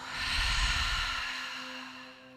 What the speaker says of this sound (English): Gentle exhale.